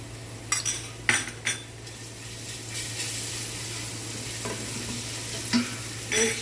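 Softened onions sizzling in a pan as garlic-ginger paste is added, with steady frying hiss, a low hum underneath and intermittent scrapes and clinks of a spoon stirring against the pot.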